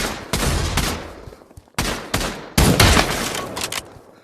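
Gunfire in the Pavlov VR shooter, loud and close, with several sharp bursts of shots, each followed by a decaying echo and a brief gap before the next, no voices.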